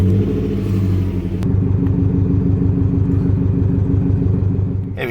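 A Subaru WRX STI engine fires up with a sharp start at about one and a half seconds, then settles into a steady, loud, rumbling idle close by.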